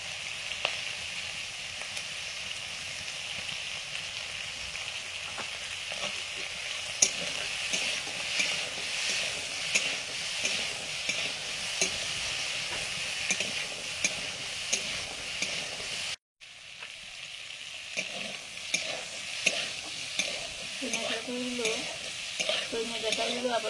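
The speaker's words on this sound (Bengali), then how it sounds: "সজনে ডাঁটাগুলো আপাতত ভাজা হয়ে গেছে" Drumstick stems fry in a pan for a Bengali poppy-seed dish, a close, steady sizzle broken by repeated scraping stirs, with a brief dropout partway through before the frying resumes.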